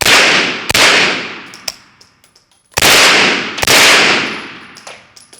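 Sharp, loud gunshots from a Springfield KUNA pistol-caliber carbine fired outdoors, one shot then a pause and two more in quick succession, each with a ringing tail and a metallic ping.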